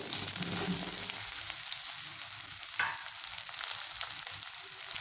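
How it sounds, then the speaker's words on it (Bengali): Steady sizzling of eggplant pieces frying in hot oil, with occasional stirring scrapes, no voices. "এবার আমি কেটে রাখা বেগুনগুলোকে এখানে ভেজে নেব"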